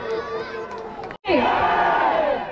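Crowd at a Malpada village stage program cheering and shouting loudly, with a brief gap before the roar resumes, fuller and steady, for the rest of the moment.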